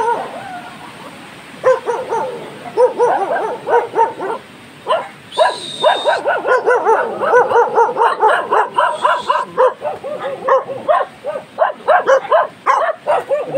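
Many dogs bark together outdoors, a loud overlapping chorus of barks, yips and whimpers that keeps going with hardly a gap, and a voice talks faintly underneath.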